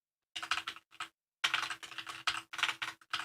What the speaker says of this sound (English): And I'm going to type review zone.